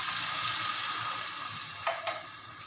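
Water hitting a hot pan of frying peas, giving a loud, steady hiss and sizzle close up, with a brief sharp splash near the end.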